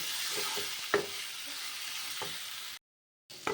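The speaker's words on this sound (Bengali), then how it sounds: "এটা আমি দিয়ে দিচ্ছি এবার এটা একটু ভালোভাবে কষিয়ে নেব" Ground coriander, chili, turmeric and cumin frying in a pan, a soft continuous sizzle with a few stirring knocks, then a brief silent gap before the sizzle returns.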